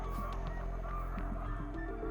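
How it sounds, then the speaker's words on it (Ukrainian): Birds calling near a reservoir, likely geese: repeated honking calls at a moderate distance, scattered over steady outdoor background noise. "Ви можете чути, як птахи кричать, там от водосховище, ну і там птахи мешкають, збираються, мабуть, у вирій"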